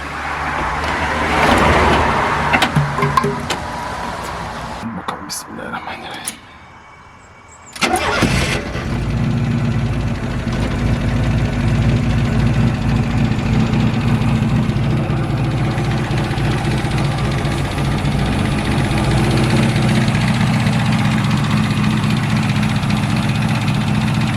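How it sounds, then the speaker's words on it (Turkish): A 1991 Tofaş car engine starts up and then settles into a steady, close idle, with a loud continuous rumble that runs uninterrupted to the end. "Şimdi arabamız normal bir şekilde çalışıyor bakın."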